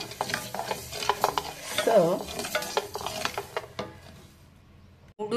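Mustard seeds and spices are stirred in a hot pan for a raw turmeric pickle, a busy scraping and rattling with a light sizzle that fades toward the end, and a voice briefly speaks.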